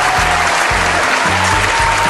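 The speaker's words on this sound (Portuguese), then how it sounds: "Palmas, bastidores, palmas" Steady, dense applause from a studio audience fills the space, loud and continuous, with a low rhythmic music bed beneath it.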